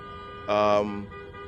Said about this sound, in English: She's still honking her horn.